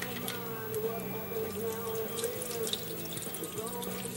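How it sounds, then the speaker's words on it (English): Water streams from a tap into a blender jar holding fishing berley, a steady splashing trickle with some drips that lasts the whole clip. "Throw a bit of water in."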